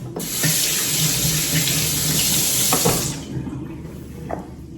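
A kitchen faucet runs strongly for about three seconds while vegetables, including peppers for a tomato and onion salad, are washed, then shuts off, leaving quieter handling noises.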